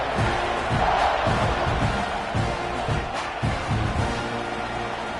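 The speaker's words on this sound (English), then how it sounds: "this crowd is buzzing after that last score" Football stadium crowd roaring after a touchdown in an Aggies game, a broad sustained wall of cheering and shouts with swelling surges, loud and continuous from a distance.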